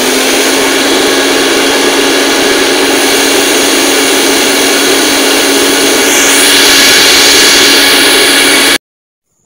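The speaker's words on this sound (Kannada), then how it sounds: "ಮಿಕ್ಸಿಯಲ್ಲಿ ಹಾಕಿ ಗ್ರೈಂಡ್ ಮಾಡಿಕೊಳ್ಬೇಕು" A kitchen mixer grinder runs at full speed grinding mint leaves with lime juice and a little water, a loud, steady motor whine with churning hiss that holds unbroken before cutting off abruptly.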